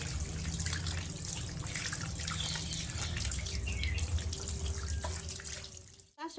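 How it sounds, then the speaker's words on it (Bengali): Running tap water splashes steadily while cleaned singi fish are rinsed in a bowl, a close continuous gush with small drips that cuts off abruptly near the end. "এবার খালি ভালো জলে একবার ধুয়ে নেবো জল পাল্টে পাল্টে"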